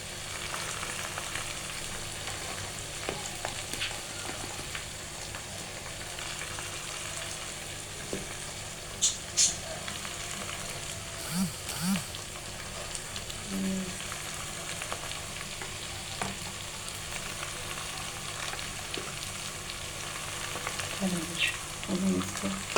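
Spices frying in a pan for an aloo matar chicken curry, a steady soft sizzle with occasional stirring clinks and scrapes, faint voices in the background.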